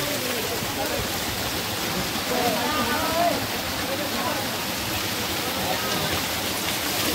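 Waterfall water pouring down from the hills near Gwalior, a steady broadband rush that stays constant throughout, with voices faintly present under the roar.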